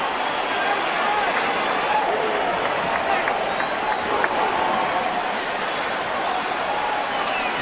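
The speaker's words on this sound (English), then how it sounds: "a loud cheer in this ballpark from the Giants fans." Giants fans cheering in a baseball ballpark, a loud sustained roar of a big crowd with some clapping mixed in, continuous throughout under broadcast commentary.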